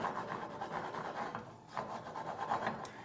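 Chopsticks stirring eggs in a pan for a French omelette make a quiet, steady rubbing and scraping, with rapid repeated strokes throughout and a brief pause midway.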